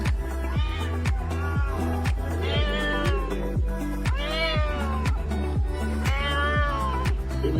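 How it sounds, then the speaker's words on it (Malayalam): An unfamiliar cat meows loudly and close by in a repeated series of long, rising-and-falling cries over a steady low hum. "അതൊരു പരിചയമില്ലാത്ത പൂച്ചയാണ്."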